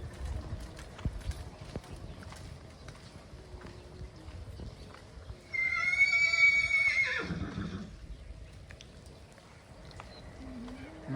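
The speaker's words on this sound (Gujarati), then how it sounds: "હવે ઘોડાને ચક્કર મરવે છે" A horse is led around in circles, its hooves clopping steadily. One loud, clear whinny rises partway through, over faint background noise.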